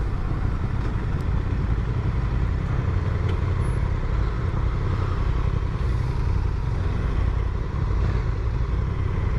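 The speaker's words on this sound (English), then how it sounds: "you really got to rev this bike up, but once you do, it wakes up." Under steady wind rush, a 2024 Honda Transalp motorcycle engine revs while being ridden, giving a continuous loud throbbing drone with no clear breaks.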